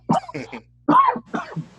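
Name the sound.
cough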